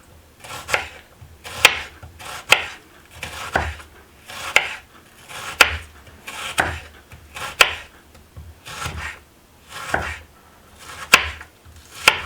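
A knife thinly slices ingredients for vegetarian pad Thai on a wooden board, a close, regular series of crisp taps and chops at a steady unhurried rhythm, with soft scraping between strokes and no talking.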